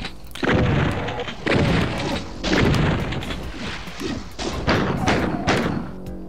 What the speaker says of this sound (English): I missed all those shotgun shots,